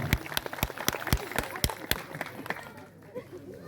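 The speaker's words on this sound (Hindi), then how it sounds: "उनके लिए भी जोरदार तालियों का साथ उनका" A burst of crowd applause at a Hindu Shiv Mahapuran scripture recital at a temple fades out, with sharp, irregular claps standing out before the clapping thins to quiet near the end.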